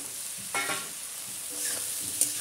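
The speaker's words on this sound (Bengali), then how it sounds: "নুনটা দিয়ে আমি ভালো করে নেড়ে নেব" Onions fry with salt in a pan, a soft, even sizzle broken by a few short stirring scrapes of a spoon, close and fairly quiet with no talking.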